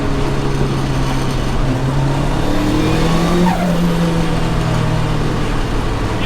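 A fully forged 1.6-litre Mk1 Mazda MX-5 engine accelerating on high boost at 21 psi, heard as a loud, continuous engine drone with rising pitch through the gears, close up and with no talk over it.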